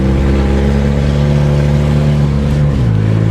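A 1991 Plymouth Colt Vista with a Mitsubishi 4G63 engine revs up loudly and steadily under acceleration, then briefly dips in pitch as it shifts from first to second gear, heard from inside the car.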